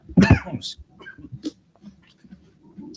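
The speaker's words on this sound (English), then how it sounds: "going to go into the coughing jag that I normally go into." A burst of coughing near the start at a high school football game, then scattered throat sounds and low murmuring voices in the background.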